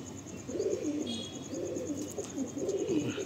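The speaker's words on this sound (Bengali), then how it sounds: "এটা মাদা পায়রা।" A pigeon in a flying-breed loft coos repeatedly in soft, rolling low calls, close and clear, with faint chirps from other birds in the background.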